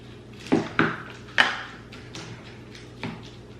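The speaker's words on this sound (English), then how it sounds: "you definitely want to stir this when you get it" A spoon clinks against a container while stirring granola into a tub of cottage cheese, giving a few sharp taps followed by softer scraping, close and quiet.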